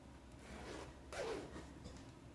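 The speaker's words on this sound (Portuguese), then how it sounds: "Você abre o seu zíper novamente." A zipper being opened on a child's dress sewing project, a single short rasp in the middle of a quiet room, faint and close.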